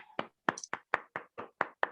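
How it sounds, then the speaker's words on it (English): About eight separate hand claps, spaced roughly a quarter second apart and a little uneven, ring out as Toastmasters club members in an online meeting applaud themselves over their microphones. The claps are crisp, close and unaccompanied by speech. "We can applause for ourselves also."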